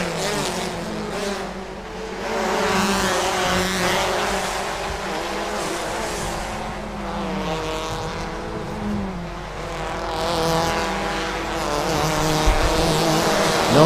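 Race cars at the Thailand Super Series Bangsaen Grand Prix, a street circuit, roar past in a loud, sustained engine drone that rises and falls as cars pass, with faint tire squeal.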